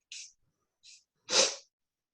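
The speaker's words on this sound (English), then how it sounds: "And I sniff, and I just sniff it up." Two short, quick sniffs, then a longer, forceful inhale through the nose of nasal spray, close by and otherwise quiet.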